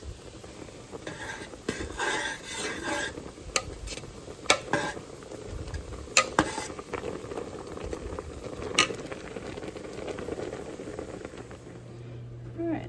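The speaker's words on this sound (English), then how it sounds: "Okay, we are boiling." A pot of water bubbles steadily on a stove for sanitizing canning jars, with scattered clinks and clatters of utensils over the boiling, which fades out near the end.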